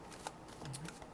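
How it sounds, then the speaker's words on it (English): A Heart Chakra tarot card deck being shuffled at close range, a soft rustling riffle of cards with a couple of brighter flicks, heard alone without talk. "while I'm shuffling these up for just a second"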